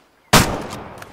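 A single Remington rifle shot in the hunting game Way of the Hunter: one sudden loud crack after near silence, trailing into a decaying echo with a faint late rumble.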